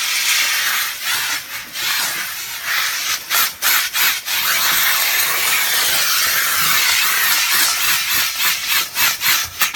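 A McCulloch MC1375 canister steam cleaner with a green scrubber head scrubs baked-on chocolate, making loud hissing steam and rapid rasping back-and-forth scrubbing strokes, close and continuous with bursts of rhythmic rubbing.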